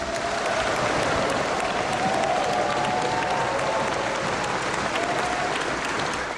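Loud, sustained applause fills the hall during the Philippine President's State of the Nation Address in the Batasan, a dense, even roar of many hands clapping without a break.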